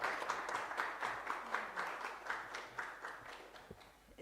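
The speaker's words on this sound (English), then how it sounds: "a round of applause for Professor Nkosi." An audience at a talk applauds after a speaker is introduced, a steady round of clapping from many hands that holds for several seconds and thins out toward the end, with no voices over it.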